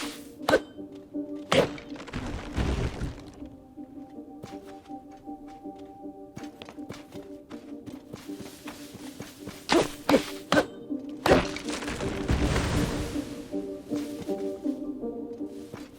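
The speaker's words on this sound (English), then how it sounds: "Can't chop down trees with a non-bladed weapon" A non-bladed weapon hits a tree in Zelda: Tears of the Kingdom, giving repeated hollow wooden thunks and whacks at uneven intervals, some sharp and loud, over a faint humming background.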